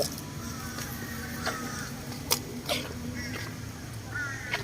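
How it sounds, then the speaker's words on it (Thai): Black crow in Saranrom Park, Bangkok, giving several short, fairly faint caws spaced a second or so apart over steady outdoor background noise and a few clicks. "ตัวใหญ่มาก ๆ เลยทุกคนอีกาดำนะฮะที่สวนสลาลมนะครับ"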